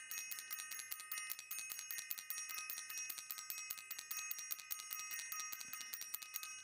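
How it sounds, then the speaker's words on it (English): A bicycle-style bell rings rapidly and continuously, a fast string of bright metallic dings repeating for several seconds at moderate, even volume with no voices. "I want to ring the bell"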